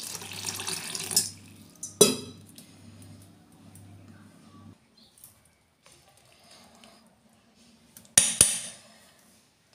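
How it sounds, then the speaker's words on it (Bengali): Butter being rinsed and cleaned with water in a home kitchen while making ghee, with a splashing, running-water wash in the first half, then quiet handling and a couple of sharp knocks. "এবার মাখনটাকে আবার এখানে আরও একটু জল দিয়ে ধুয়ে পরিষ্কার করে নেব।"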